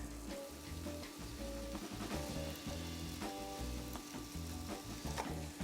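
Mushrooms, shallots and garlic sautéing in butter give a steady, close, dense sizzle and crackle with occasional stirring, over soft sustained tonal background music.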